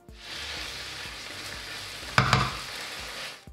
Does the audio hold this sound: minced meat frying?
yes